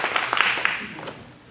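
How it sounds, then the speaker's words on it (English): A short burst of audience applause for a weightlifter at a Nova Scotia snatch competition, scattered claps that fade out quickly. "You're allowed to applaud"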